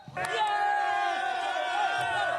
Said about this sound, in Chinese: 现场传出欢呼声。